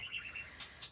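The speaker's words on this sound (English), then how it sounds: "I know you hear them because they chirping." Pet birds chirp indoors in a short burst of quick, high tweets, several calls in under a second at moderate volume over a low background hum.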